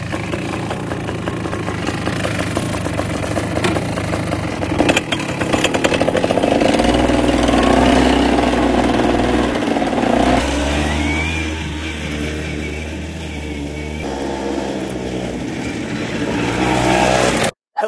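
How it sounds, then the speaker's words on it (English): A Rokon Mototractor, a two-wheel-drive off-road motorcycle, drives with its small engine revving and labouring loudly throughout, its pitch rising and falling, with no talk over it. "Let's go ahead and try out this Rokon Mototractor."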